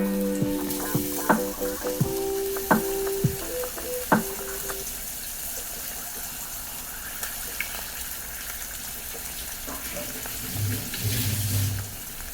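An egg frying in a pan with tempered chickpeas for kadala thembaradu gives a steady soft sizzle, with brief clinks and knocks in the first few seconds and a louder bubbling burst near the end.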